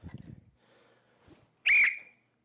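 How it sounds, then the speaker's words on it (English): Whistle from a bug-out bag giving one short, sharp, loud blast after a moment of quiet, following brief talk. "The old whistle, just in case you need help."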